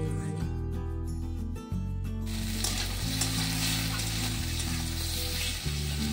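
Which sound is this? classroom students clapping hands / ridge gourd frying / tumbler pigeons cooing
ridge gourd frying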